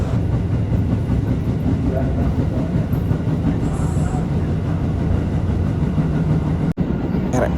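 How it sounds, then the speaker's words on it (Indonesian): A commuter electric train (KRL) rolls steadily at close range from Bekasi station toward Tanah Abang, Indonesia, a continuous loud rumble of wheels on track with faint squeals, and a sudden brief drop near the end. "KRL tujuan Tanah Abang berangkat dari stasiun Bekasi"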